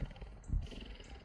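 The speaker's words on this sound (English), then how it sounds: "Got some purrs?" A low, rumbling purr pulses close by in soft rhythmic throbs, brief and quiet, with faint high squeaks above it.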